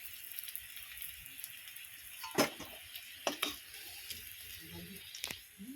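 Potatoes frying in hot oil in a pan while crab is being cooked: a soft steady sizzle runs throughout, broken by a few sharp scrapes and clinks of a utensil lifting them out.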